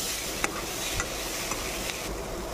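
Chili powder, salt, turmeric and water being stirred in a hot pan make a constant low sizzle, with a few light spoon clicks against the pan, close and without talk.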